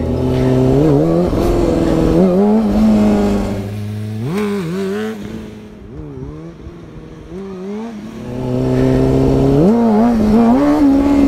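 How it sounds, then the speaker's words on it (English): Motorcycle engine revving hard during fast staggered wheelies, loud and close, rising and falling in pitch through repeated throttle blips, easing off midway before climbing again, with no talk. "I'll try some fast staggered wheelies, see if that helps me."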